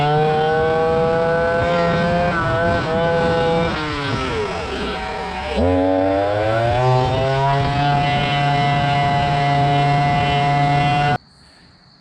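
A GoPed GSR40 gas scooter's small engine idles steadily a little high with a buzzing hum, its pitch dipping briefly and recovering before cutting off abruptly near the end.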